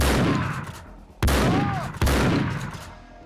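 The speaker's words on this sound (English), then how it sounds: "here I am using a shotgun at guys that are at pretty far range" Booming shotgun blasts in the PC game Max Payne 2, fired at distant enemies: three heavy, roaring shots in quick succession, each abrupt onset trailing into a long rumbling decay.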